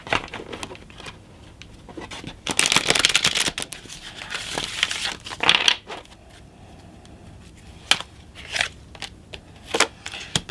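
Tarot cards are handled and shuffled up close, with bursts of riffling and slapping, a dense shuffle in the middle, then scattered sharp card taps and flicks, with no talk.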